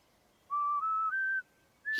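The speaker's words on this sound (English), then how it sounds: "he plays a whistle, which is very adult like as well" A whistle melody from a character in the Sprunki music game: three clear, sustained notes stepping upward in quick succession, then a pause and one more note. The whistling is bright and alone, cut off by a sudden noise at the end.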